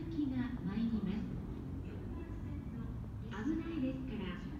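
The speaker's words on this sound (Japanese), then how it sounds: "まもなく一番線に普通千葉行きが参ります。" Low rumbling rail noise with a faint squeal, a train rolling into JR Shin-Kawasaki Station while a Japanese platform announcement plays over it.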